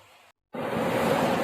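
Floodwater rushing during heavy monsoon rain in Konkan, a broad steady roar that cuts out briefly, then returns louder and continuous, close and unbroken.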